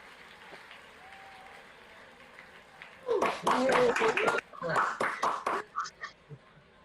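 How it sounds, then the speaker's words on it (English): Scattered clapping from graduates and guests over unmuted microphones at an online university graduation ceremony, starting after three seconds of quiet room noise, uneven and slightly choppy with a few duck-like bleeps from individual mics. "a round of applause for our graduates"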